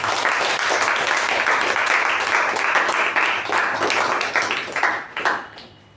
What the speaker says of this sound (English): can we have a big round of applause for the club ExCom as well as the facilitator